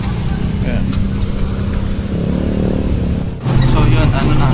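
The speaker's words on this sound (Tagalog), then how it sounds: "nakasakay na tayo ng tricycle" Motorized tricycle engine droning loudly during a ride, a steady close rumble that shifts pitch near the end as the motor changes speed.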